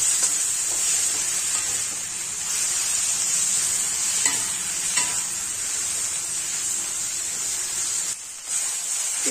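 Tomatoes for a chicken roast sauté in a pan with a steady bright sizzle and occasional spatula scrapes, holding close and even throughout with a brief dip near the end, no talking.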